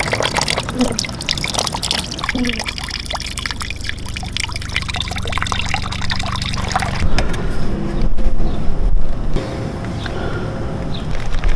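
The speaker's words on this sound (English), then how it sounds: "just keep pouring it in until the water flowing out the hole is clean" Distilled water is poured into a Kawasaki Vulcan S 650 motorcycle radiator and runs out of the drain hole, a continuous close splashing and trickling that shifts to a brighter, steadier stream toward the end, with no talk.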